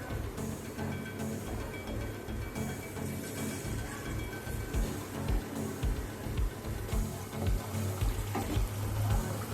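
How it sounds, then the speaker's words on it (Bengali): Batter-coated eggs deep fry in hot oil with a continuous crackling sizzle, steady and close, with no talking. "একটা করে ডিম এইভাবে আমি ব্যাটারটার মধ্যে দিয়ে নেব, দিয়ে আমি তেলের মধ্যে ছেড়ে দেব।"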